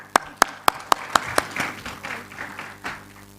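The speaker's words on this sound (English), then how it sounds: "A round of applause for her." At a policy seminar, a few sharp, evenly spaced claps ring out first, then the room fills with softer scattered applause that gradually thins.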